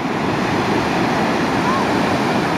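Ocean surf at Roads End beach in Lincoln City rolls in a steady, continuous wash of breaking waves, close and fairly loud, with wind buffeting the microphone throughout.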